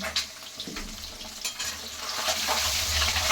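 Eggs frying in a wok give a steady hiss and sizzle with scattered sharp pops and crackles, close by and fairly quiet, with no talk.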